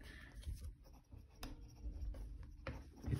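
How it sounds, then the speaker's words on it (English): Parker Aster pen scratching across paper in short, uneven strokes, close and fairly quiet, with soft rubbing between strokes. "I hate the sound of scratching paper."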